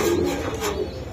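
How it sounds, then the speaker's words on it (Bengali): A pigeon at a pigeon seller's place gives a low, soft coo, one short rolling call heard up close with faint rustling and no talk. "এই যে দেন রবিন ভাইয়ের কবুতর"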